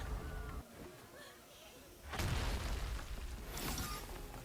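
Explosions from the anime To Be Hero X: a deep boom bursts in midway and rolls on as dense rumbling blast noise, with a second blast swelling near the end, preceded by quieter rumble.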